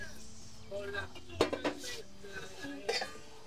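Ceramic mugs being picked up and set down on a store shelf, giving a few sharp clinks and knocks spaced apart, close and fairly clear, with faint voices in the background.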